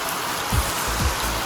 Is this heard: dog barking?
no